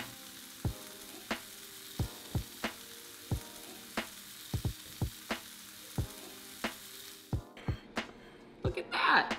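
Burgers sizzling quietly in a pan, with a soft hiss and regular pops and spits, then a brief clatter near the end.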